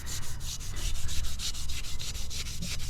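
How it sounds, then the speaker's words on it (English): An old wheel scrubbed by hand with a Scotch-Brite pad after an acid cleaning, giving a loud, rhythmic back-and-forth rasping of roughly a dozen quick strokes, close up and steady throughout. "Got this little Scotch-Brite."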